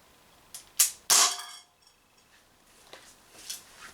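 A TT 33 6mm CO2 gas blowback airsoft pistol fires two sharp close shots in quick succession, each with a short metallic ring, followed by faint clicks and handling noise.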